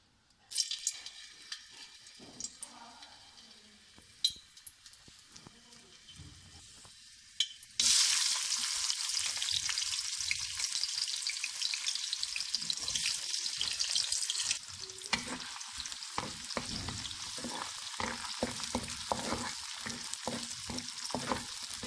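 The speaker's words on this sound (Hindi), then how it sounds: "अब ये गर्म हो चुका है, इसमें प्याज डालते हैं।" Chopped onions dropped into hot cholesterol-free cooking oil for a Rajasthani chole aloo curry, bursting into a loud, steady sizzle partway through after a quieter start, then easing to a softer frying hiss with stirring sounds.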